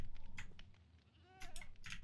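Sheep in the Minecraft video game bleat three times in short, wavering cries, moderately close, over a low background rumble.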